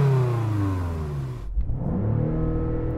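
A BMW M5 CS engine revs hard against its 5,000 rpm soft limiter, holding a loud, buzzing note, dipping briefly in the middle, then climbing again close by.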